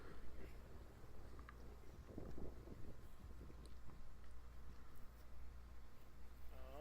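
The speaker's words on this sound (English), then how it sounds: "The wind's pretty crazy." Strong wind gusting across an open golf course at a disc golf sudden-death doubles playoff, a steady low roar with buffeting microphone rumble throughout and faint, indistinct background voices.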